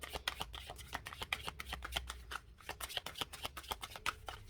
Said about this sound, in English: I shuffle these cards twice normally